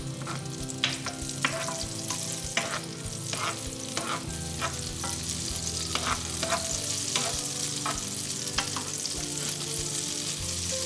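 Butter sizzles steadily in a hot pan while it coats the surface for seafood fried black rice, a continuous close frying hiss broken by sharp spatter crackles and occasional stirring scrapes, with no talking.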